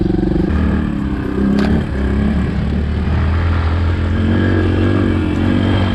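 A Suzuki DR200 dirt bike rides a tight off-road trail in first gear, its mid-pitched single-cylinder engine droning loud and close with rattles and small throttle changes, no talking.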